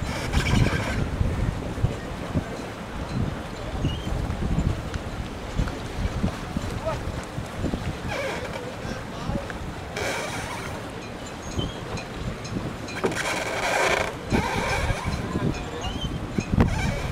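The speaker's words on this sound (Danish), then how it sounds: "Men det blæser lidt." Gusty wind buffets the microphone outdoors at a boat trolling fishing competition, a steady broadband rush with stronger blasts around the middle and near the end.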